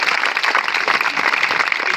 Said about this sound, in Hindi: लाल और बूंदी के शेर के लिए एक बार जोरदार ताली